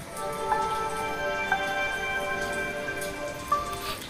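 Light rain falls on Kashid beach near Alibag, a steady soft hiss with a few louder drops and faint tonal hum underneath, continuous and without talking.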